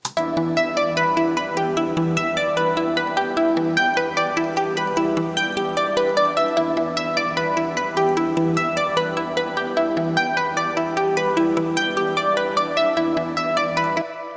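Sustained synth chords with bright plucked notes repeating in a steady rhythm, each pluck trailing soft echoes, continuous and moderately loud.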